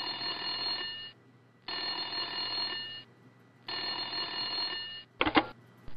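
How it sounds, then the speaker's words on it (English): An old-style telephone bell rings in The Smelly Mystery game, three long trilling bursts separated by short pauses, followed by a brief clatter as it is picked up. "Suddenly, the phone rang."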